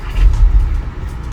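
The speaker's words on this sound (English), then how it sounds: "I normally press this button as I get into the car. I'm just going to quickly start it." A VW Golf 8 GTI engine fires up with a brief low rumble and a short swell of revving that settles into idle, close and alone with no talk.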